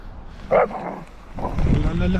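Large dogs barking outdoors during a Canadian winter snowstorm, a sharp bark or two followed by yips and whimpers, close and mixed in with a person talking.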